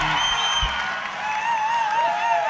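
A festival concert audience at Fishing on Orfű applauds and cheers, with a steady crowd roar under whoops and whistles, while a sustained musical tone hangs above.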